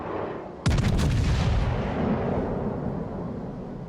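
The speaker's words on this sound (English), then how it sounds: "let's drop another volley" A naval cruiser's gun volley fires in World of Warships: one sudden heavy blast after a quiet moment, followed by a long rumbling roll that fades slowly.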